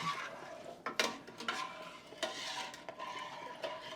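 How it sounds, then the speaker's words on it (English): A spoon stirs cane sugar into homemade cranberry juice, making soft repeated clinks and scrapes against the container with a swishing liquid sound, close and fairly quiet. "Stir it up."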